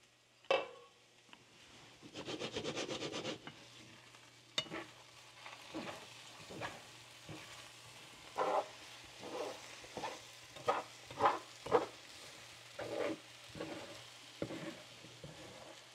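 Five eggs in a covered HexClad frying pan: the lid lifts off with a clatter, then a spatula scrapes and taps the pan in irregular strokes over a soft, quiet sizzle.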